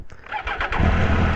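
A Triumph Tiger 800 XCA motorcycle engine cranks with a few quick starter pulses, then catches and settles into a steady, close, rumbling idle.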